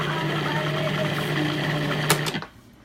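Raw almonds being blended into almond butter, the motor giving a loud, steady whirring grind that runs near the mic for about two seconds before cutting off abruptly.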